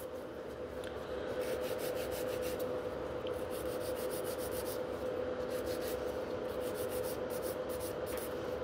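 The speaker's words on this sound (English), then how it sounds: "you can see my filing lines, shorten it a little bit" A nail file rasping fingernails into a V-shape, a close steady scratching that comes in quick rhythmic bursts of strokes.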